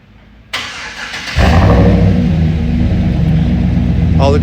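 A 2015 Chevy 2500HD fires up through a mandrel-bent 2.5-inch exhaust with a Flowmaster 10 series single-chamber muffler, 3.5-inch stainless double-wall tips and stock converters, then holds a loud, deep, close rumble.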